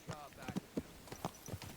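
Hooves clip-clop in a steady walking rhythm in the video game Kingdom Come: Deliverance 2, about half a dozen soft muffled steps over quiet ambience, with a brief neigh-like tone early on.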